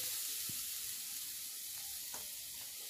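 Freshly grated coconut sizzles in a wok over a gas flame, a soft continuous hiss at low level with a couple of faint utensil taps, no speech.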